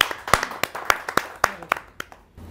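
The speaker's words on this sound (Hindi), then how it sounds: "आपकी जोरदार तालियां मिले" Applause from an audience at a Hindi poetry gathering welcoming a poet to the stage, a run of sharp, uneven claps that swell and thin out over a couple of seconds, close and fairly loud.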